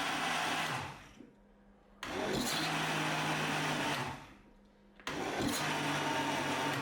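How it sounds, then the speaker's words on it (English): A blender pulses vanilla cupcake batter in loud bursts, three on-off cycles of whirring motor noise separated by short quieter gaps. "take that batter and pulse the blender on and off for about 8 to 10 seconds"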